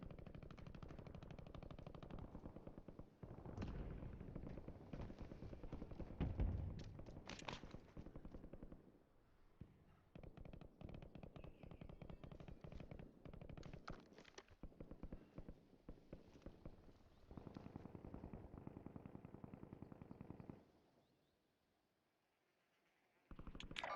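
Video game gunfire crackles in long, fast automatic bursts at moderate distance. It continues almost the whole time with a few brief breaks, then cuts off near the end, and no voices are heard.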